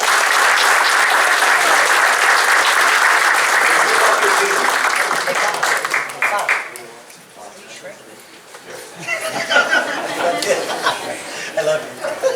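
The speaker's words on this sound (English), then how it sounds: "One more round of applause, everyone." Loud, sustained audience applause at a town council meeting fills the room, with chuckles and chatter mixed in; the clapping thins out midway, then swells again briefly before the end.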